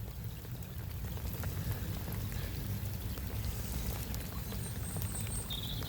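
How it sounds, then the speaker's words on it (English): Rain falls steadily at a lake, a continuous dense hiss and patter with scattered drops hitting nearby surfaces, no voices heard. "If this rain continues"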